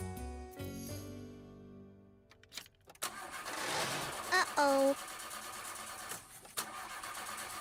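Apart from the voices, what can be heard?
car engine failing to start in cold weather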